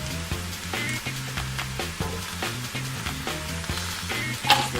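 Butter and garlic sizzle steadily in a hot pan alongside oxtails, a continuous close frying crackle with small pops and stirring clatter, no talking.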